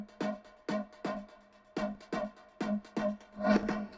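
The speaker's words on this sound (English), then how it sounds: "This is a reversed lead sound." A reversed lead synth with reverb swells into repeated short stabs in a rhythmic pattern, each note rising into a sharp attack, moderately quiet and alone with no voices.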